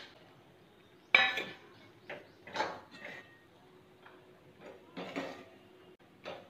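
Gram flour and semolina being stirred in a pan over low heat, giving soft, irregular scraping and clinking strokes of a spoon against the pan, close and fairly quiet, in several separate bursts.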